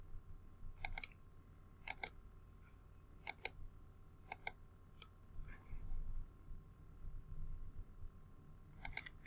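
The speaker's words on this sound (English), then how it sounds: "Clicking our way along the line." A computer mouse clicks sharply while lines are traced along fold axial traces in mapping software, paired clicks spaced a second or so apart, close and clear over a faint hum, with no talking.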